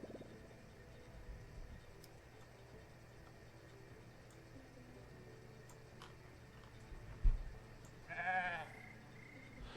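Sheep bleat in the post-apocalyptic colony game Surviving the Aftermath, a short wavering cry near the end over a low ambient game soundscape with faint ticks.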